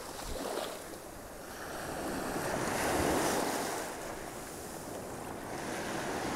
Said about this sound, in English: Battling the waves here.